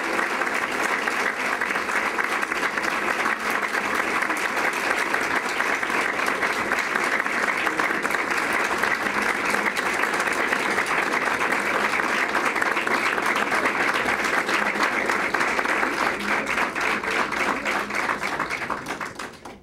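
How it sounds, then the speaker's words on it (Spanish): Sustained, even applause fills a university graduation ceremony for Social Communication Sciences graduates, a dense, continuous wash of clapping from a large audience that fades only at the very end. "Un merecido aplauso."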